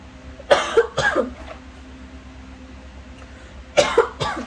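Someone with a cold coughs in two bursts of two or three harsh coughs each, separated by a quiet pause, close and fairly loud over a low indoor hum.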